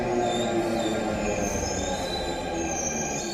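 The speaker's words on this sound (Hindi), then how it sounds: "जी न्यूज रिपोर्टर रूफी जैदी ने ड्राइवर की कैबिन में बैठकर ड्राइवरलेस मेट्रो में सफर किया।" Driverless metro train running on rails, heard from the driver's cabin: a steady rumbling roll with thin high squealing tones from the wheels sliding above it, continuous and fairly loud.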